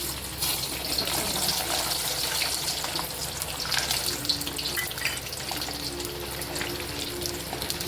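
Garlic frying in smoking-hot oil: a steady, soft crackling sizzle with a watery, rushing texture, even and continuous throughout, with no voices.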